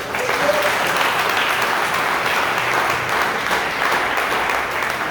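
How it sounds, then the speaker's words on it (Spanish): A church congregation gives a strong, steady round of applause during a service. The even wash of many hands clapping holds at the same loudness throughout, with no pause. "Demos un aplauso fuerte."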